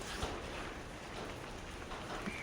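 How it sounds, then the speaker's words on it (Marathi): Rain falls outside as a soft, steady patter and hiss, faint and continuous for a few seconds, with no talk. "बाहेर पण पाऊस पडते"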